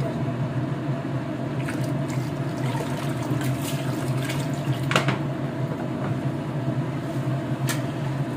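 Water poured steadily into a large cooking pot for chicken pulao, a continuous broad gushing wash that holds at an even level throughout, close and fairly loud, with a few brief clinks over it.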